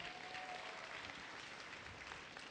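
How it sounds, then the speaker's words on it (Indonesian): An audience at a cervical cancer health seminar applauds with a faint, even, continuous patter of many hands heard from a distance. "Tepuk tangan untuk Kak Sofi."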